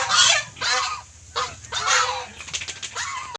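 Domestic geese honking in their pen on a farm, a series of loud, harsh nasal honks in bursts, close by, with some shuffling between calls.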